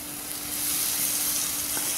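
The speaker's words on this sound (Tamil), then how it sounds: "இப்போ நம்ம தக்காளி அரைச்சி வச்சதை சேர்த்துப்போம்" Ground tomato paste hitting a little hot oil in a pan for South Indian fish curry, giving a steady close sizzle and crackle that swells slightly and holds for the whole two seconds, with no talking.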